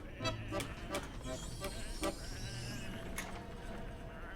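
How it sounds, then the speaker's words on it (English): Sheep bleat repeatedly in the video game Whateverland, several short quavering calls close by at an uneven rhythm over a faint background hum. "Come on, these are just sheep."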